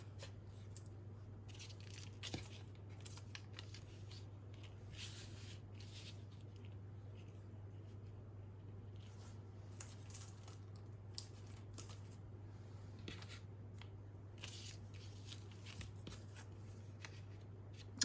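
Small scissors snip a picture of a lady out of paper during a craft session, producing quiet, intermittent cuts and paper rustles spread over the clip, close and faint, with no speech.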